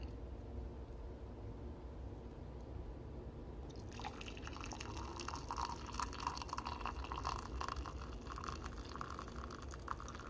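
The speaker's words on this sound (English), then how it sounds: "Put the hot water in there." Hot water poured into a small cup: after a few seconds of low background hum, a steady splashing, trickling stream starts and runs on to the end, close and moderately loud.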